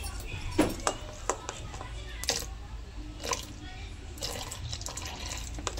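Water trickles into a bottle gourd (lauki) paratha mixture seasoned with salt, turmeric and coriander powder, heard as quiet, uneven splashes and drips against soft background noise.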